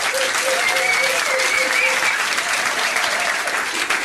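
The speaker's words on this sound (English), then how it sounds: "Give them a round of applause for trying anyway." Audience applauding at a music trivia quiz night, a steady, dense round of clapping throughout with faint voices underneath.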